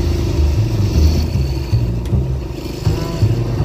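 A motorbike rides along a village road, its engine giving a steady low rumble with slight rises and falls in revs throughout, close and fairly loud, with no talk.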